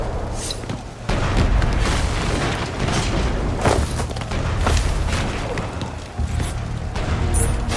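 Heavy booming cannon blasts and crashes in a video game, layered over a loud, chaotic battle din, with bursts rising and falling through the whole stretch.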